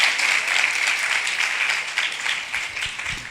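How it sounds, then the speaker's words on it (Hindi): A women's seminar audience gives a loud, dense round of applause that stays steady and strong throughout, with no voices over it. "जोरदार तालियां खुदा के जलाल के लिए, उसके कलाम के लिए"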